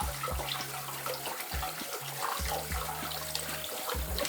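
A cold kitchen tap runs into a sink or saucepan, a steady close hiss and splash of water with low gurgling pulses, alone with no talk.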